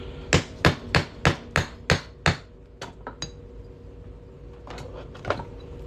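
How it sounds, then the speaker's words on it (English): A hammer drives a steel center punch into a New Mexico quarter coin, with seven loud, evenly spaced metallic strikes followed by a few lighter taps and one last blow, close up with no talk. "we're just going to drive a hole right in the middle of our quarter."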